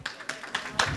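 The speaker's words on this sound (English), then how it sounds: "Give them a round of applause." Applause from a small audience at a live pitch competition event, a few short bursts of claps that swell and fade in separate waves, moderately quiet and heard alone without talk.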